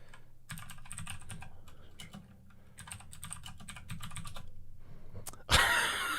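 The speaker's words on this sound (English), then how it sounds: "I just typed on my other computer." Fingers type on a computer keyboard in quick bursts of soft, close clicking separated by brief pauses, then a sudden louder knock ends the run; no voices.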